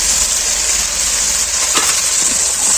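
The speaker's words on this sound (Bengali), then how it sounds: "এবার এটা ভালো করে কষে নেব।" Spice paste frying in oil for a light rohu fish curry with drumsticks, giving a loud, steady hissing sizzle close up and a brief scrape partway through.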